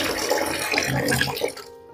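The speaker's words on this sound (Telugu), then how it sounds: "నీరు జల్లెడ గుండా క్రిందకు పడిపోవటాన్ని గమనించవచ్చు." Water from a glass is poured onto a sieve and splashes through it in a steady, fairly close rush that stops abruptly just before the end.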